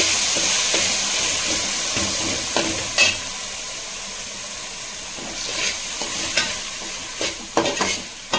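Tomatoes sautéing in a pan for a potato, cauliflower and brinjal poriyal, a steady soft sizzle with a few louder stirring scrapes and clinks near the end, no voices.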